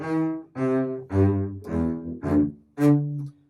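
Seven short, punchy bass notes played one after another, each cut off sharply with brief gaps between them.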